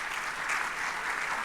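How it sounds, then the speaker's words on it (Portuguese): Brief, fairly faint round of audience applause for a panel at an infrastructure investment conference, steady and continuous throughout. "Queria uma salva de palmas para este painel."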